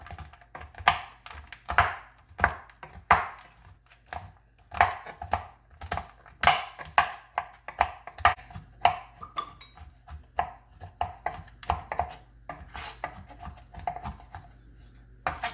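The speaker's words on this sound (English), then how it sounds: "we're going to chop up 1 cup of Andes mints" A knife chops Andes chocolate mints on a cutting board, with rapid, irregular clicking knocks that run steadily for a long stretch, close and crisp, with no talking.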